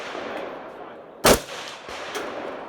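A rifle fires during outdoor target shooting, giving one sharp, loud report in the middle and a fainter second pop shortly after, over a steady low background.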